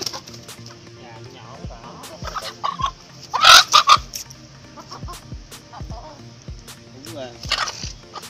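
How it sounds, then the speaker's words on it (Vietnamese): A hen that has just laid an egg clucks in a farmyard, with a rhythm of short repeated clucks, one louder burst of cackling in the middle and further bird calls around it. "Con gà mới đẻ đi."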